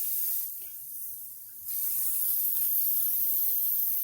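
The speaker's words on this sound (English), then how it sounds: "And I can pretty much spray the water out." An airbrush being cleaned sprays water out in a steady, close hiss that briefly drops in strength before returning at full force.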